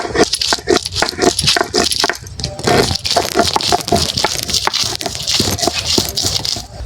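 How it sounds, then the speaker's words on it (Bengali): Garlic is crushed on a stone grinding slab with a rapid, close series of gritty scraping and knocking strokes, loud and continuous with an irregular rhythm throughout. "রসুনটা বেটে নিচ্ছি।"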